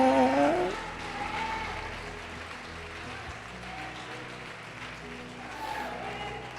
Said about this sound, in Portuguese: Pode aplaudir o Senhor Jesus e glorificá-lo